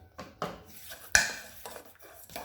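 Lemon juice and spices being stirred in a bowl, heard as a few distinct clinks and scrapes of a utensil against the dish, with one sharper knock in the middle, close and fairly quiet.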